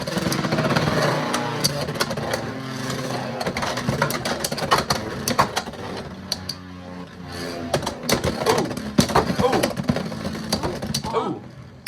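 3D printed Beyblade spinning tops clash and whirr in a plastic stadium, with dense rattling and sharp clicking impacts throughout while people talk and react over the battle.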